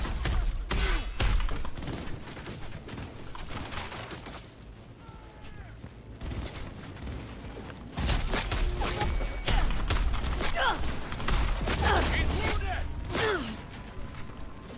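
Sniper gunfire and shattering impacts in the Cyberpunk 2077 video game, sharp cracks and bangs scattered irregularly across a busy combat scene with game voices shouting.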